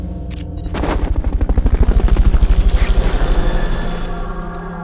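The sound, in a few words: helicopter in video game Metal Gear Solid Peace Walker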